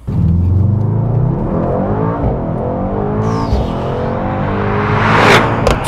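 A Mercedes-AMG GT 63 S 4MATIC+ four-door coupe's V8 runs loud and close in rear-wheel-drive drift mode, with engine harmonics rising and falling steadily and a sharp rev burst near the end.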